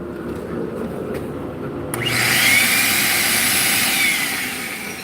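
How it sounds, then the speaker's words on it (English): A DeWalt shop vacuum runs as a router bit chews into wood, with a low steady hum first and then a sudden loud, bright cutting whine joining in. "The majority of the noise just comes from the actual bit chewing on the wood."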